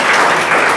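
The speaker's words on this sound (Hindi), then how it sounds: "पुनः एक बार सिर्फ मेरी तरफ से तालियां आपको" Hand clapping by one person at a student success talk, a brief loud burst of close, dense claps with no other sound.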